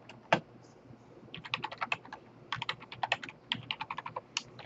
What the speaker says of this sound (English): I have a lot of trouble with typing.